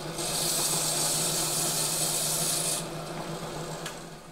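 Gryphon C-40 diamond bandsaw with a 42-inch blade trimming a piece of coral, a steady, close grinding rasp that holds for nearly three seconds before easing off into a quieter whir.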